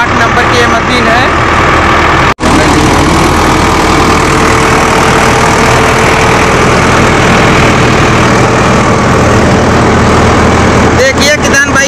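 A Preet 6049 tractor runs a paddy threshing machine set to position 8 at 11 RPM, giving a loud, steady mechanical drone that breaks off briefly in one abrupt gap before resuming.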